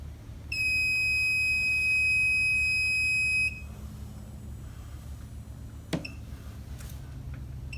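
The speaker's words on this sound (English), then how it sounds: "I will get the low liquid alarm." An oil water separator's low liquid alarm gives one loud, steady electronic tone of about three seconds over a constant low hum, then stops, followed later by a brief click.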